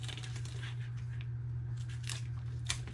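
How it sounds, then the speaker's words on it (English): Scissors snip through folded paper to make a miter cut while crafting a skinny paper purse, giving a few crisp, close cuts and crunches over a steady low hum. "And then I'll come back with my scissors, miter cut."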